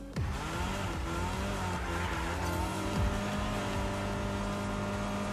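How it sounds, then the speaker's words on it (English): A car drifting in Fortnite Rocket Racing, a loud revving engine with rising and falling pitch sweeps and squealing tires, close and continuous with no talk over it. "it seems that we drift automatically"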